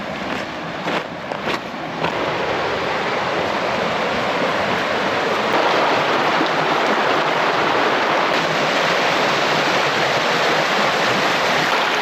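River water rushes at Pedernales Falls in Texas on a chilly, rainy day, a steady loud broadband roar of flowing water that holds unbroken throughout, with a few faint knocks early on.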